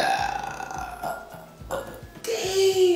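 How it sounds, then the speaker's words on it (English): A loud, drawn-out burp rumbles low and strong through most of the moment, followed by a second burst near the end, with faint background voices. "I need a soda to get a good burp like that, man."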